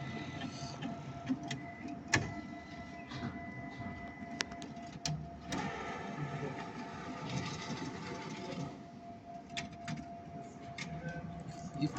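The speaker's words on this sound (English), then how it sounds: "The machine took the money." An FNB ATM whirs and hums steadily while processing deposited cash notes, with soft mechanical clicks and occasional knocks, heard close and at a moderate, even level.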